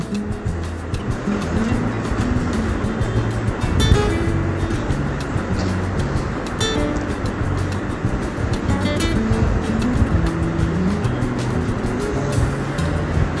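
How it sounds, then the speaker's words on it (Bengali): Pointed gourd (potol) fries with salt and turmeric in a pan, giving a loud, steady sizzle with scattered crackling pops throughout. "লবণ, হলুদ দিয়ে আমি এখন ভেজে নেব।"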